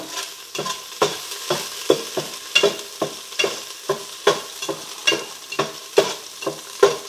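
Ingredients for Thai green curry frying on lowered heat, with a spatula stirring and scraping the pan in regular strokes about twice a second over a soft constant sizzle, close and without talk.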